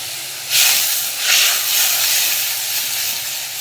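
Water poured into a hot pan of sautéed ginger bursts into a loud hiss of steam that surges twice, then settles into a steady, fading sizzle with no talking.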